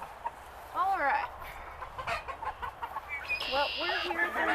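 Cornish Cross chickens cluck and squawk nervously as they are carried to a new pen, several birds calling in overlapping bursts close by, with a short high rasping squawk near the end over constant background rustle.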